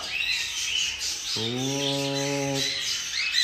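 A single call from an albino hen, a short harmonic coo lasting about a second, heard moderately close over steady background hiss.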